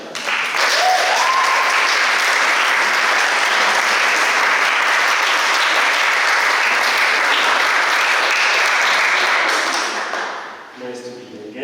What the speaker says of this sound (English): give a warm applause for Max Richter